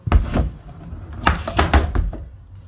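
A wooden panel under a staircase being pried off with a chisel, several close thuds, knocks and creaks in irregular bursts as the nailed board gives way.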